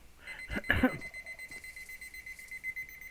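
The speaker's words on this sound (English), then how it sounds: "Oh, and there's the timer." A timer alarm goes off with a steady, ringing electronic tone that keeps sounding at moderate volume after a brief burst of noise at the start.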